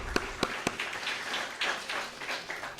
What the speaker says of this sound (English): Let's give him a nice warm applause, please, for his presence.